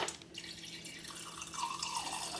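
Water drips and trickles from a tap into a glass or sink while a drink is fetched indoors, a soft continuous running sound with faint splashes, close and fairly quiet, no talking.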